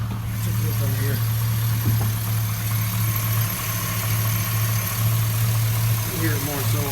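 Chevrolet Silverado Sierra 5.3 engine idling warm with a steady low hum, a faint light ticking from the lifters mixed into the engine drone, recorded close to the engine bay.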